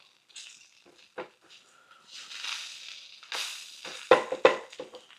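A spatula flips food in a frying pan, with soft scrapes and brief sizzling bursts, then a couple of sharper clacks of the spatula against the pan near the end, fairly close and unaccompanied by talk.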